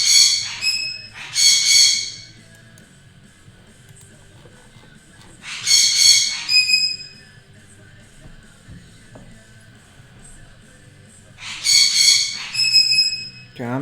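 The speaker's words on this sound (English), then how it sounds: "I'm gonna go get the bird because he is being very loud" A pet bird in a room lets out loud, harsh squawks in repeated bursts, each lasting about a second, separated by several seconds of quiet room hum.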